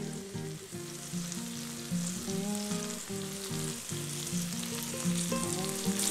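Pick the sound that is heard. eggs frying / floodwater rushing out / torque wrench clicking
eggs frying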